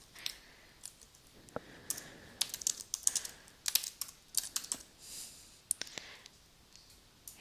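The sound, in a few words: typing on a computer keyboard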